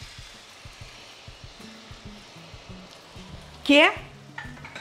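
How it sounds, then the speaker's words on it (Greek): Red wine hits a hot pot of browning beef for a traditional Greek kapama with eggplant and potatoes, giving a soft sizzle under steady spoon stirring and light knocks, broken by one brief bright clatter. "Σε αυτό εδώ το σημείο το σβήνω με κόκκινο κρασί"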